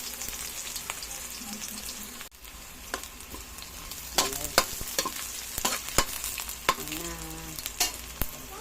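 Ginger fries in a pan for ginataang langka, a soft sizzle broken by a series of sharp utensil scrapes and clacks as it is stirred, growing busier in the second half.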